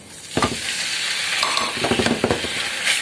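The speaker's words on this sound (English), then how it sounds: "So once the oil is hot, I'll add in the pork." Pork hits hot olive oil in a single pan and sizzles loudly, a bright steady hiss with a few stirring scrapes and clicks near the end.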